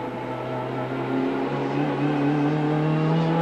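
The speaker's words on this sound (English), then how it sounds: "Just listen to the wheels buzzing. You hear that turbo come on like a bomb. Heaps of wheel spin." Turbocharged Ford Sierra race car on a wet track in rain, engine droning steadily with rising pitch as the wheels spin and buzz, continuous and moderately loud.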